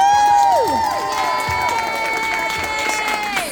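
Applause and cheering from an awards-ceremony crowd, with high whoops and shouts sliding over steady clapping, loud and close throughout.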